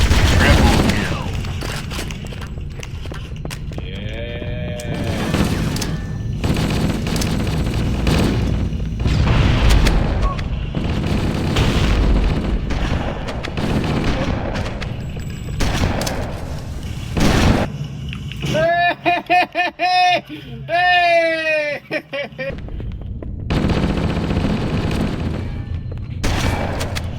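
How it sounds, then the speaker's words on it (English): A run of video game gunfire and explosions, with repeated booming blasts and bursts of shots across a long stretch, loud and dense, with someone talking through part of it and a musical game jingle near the end. "I'm going to go and round these dickheads up now and shoot them dead"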